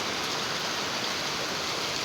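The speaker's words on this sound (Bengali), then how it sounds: "হঠাৎ বৃষ্টি শুরু হয়ে গেল" Rain falls steadily outside a window, a dense, even hiss with no breaks or voices.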